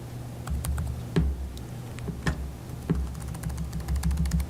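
Keys clack on a computer keyboard over a steady electrical hum in a meeting room, with scattered, uneven taps and a few louder strikes, no voices.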